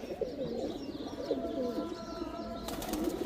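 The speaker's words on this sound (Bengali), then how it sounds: "এগুলা নতুন কবুতরের বাচ্চাগুলা এখনও খাবার দেয় নাই" Young pigeons coo in a loft, steady overlapping low coos repeating throughout, close and moderately loud with light chirps, no talking.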